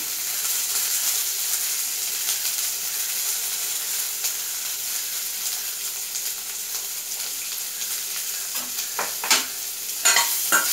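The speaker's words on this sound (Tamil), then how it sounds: "கிளறி விட்டுக்கோங்க. இது நல்லா வதங்கணும் ஃப்ரெண்ட்ஸ்." Masala sautéing in a pan for crab soup, a steady close hiss of frying with soft stirring scrapes and a few sharper spatula knocks near the end, and no talk.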